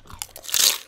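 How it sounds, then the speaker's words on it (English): A single sharp crunch as a character bites into food in a video game, a brief close bite and crackle lasting under a second, alone. "I know you hear that crunch"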